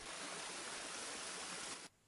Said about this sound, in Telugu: ఉగ్రనారసింహస్వామి దేవాలయం బ్యాక్ సైడ్ మనకు ఒక చిన్న వాటర్ ఫాల్ అయితే ఉంది